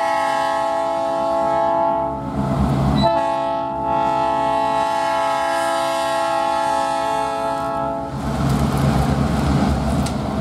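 A CN 568 freight train sounds a loud, sustained multi-tone horn in two long blasts, with rumbling railcars and engine noise underneath and between them.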